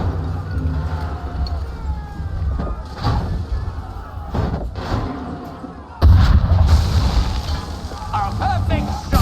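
Cannon fire booms in an Assassin's Creed III battle, with several heavy blasts and thuds scattered through a noisy scene, mixed with shouted voices and a sudden louder burst near the end.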